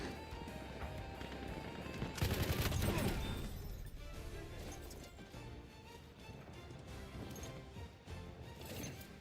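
Gunfire in a Battlefield 6 firefight, a dense burst of crashing shots followed by scattered rapid pops and impacts at moderate distance under a busy game mix, with no clear talk.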